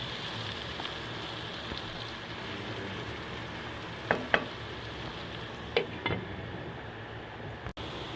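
Onions frying with salt in a covered pan give a steady, even sizzle throughout, with a few brief clinks and stirring knocks near the middle and end.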